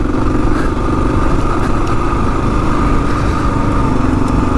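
A 2022 Kawasaki KLR 650 dual sport motorcycle lugging along in first gear, its engine a loud, steady low rumble with a rough, pulsing chug, close by and with no voices.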